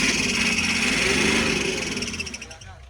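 A 1960s VW bus engine runs at a steady idle, a buzzy air-cooled drone close by that holds even for a couple of seconds and then begins to fade and wind down.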